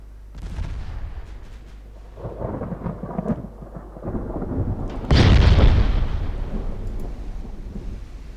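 Rolling thunder in a naval war game, a long low rumble that swells into a louder crack and boom midway, then trails off over steady rain and storm noise.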